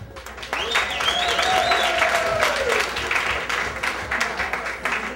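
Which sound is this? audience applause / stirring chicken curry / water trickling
audience applause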